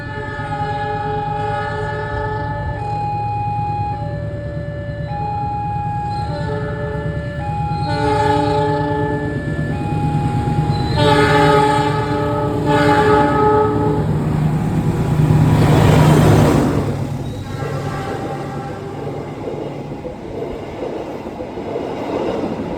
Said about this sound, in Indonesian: Kita kayaknya bersilang sama kereta paling mahal di lintas ini ya.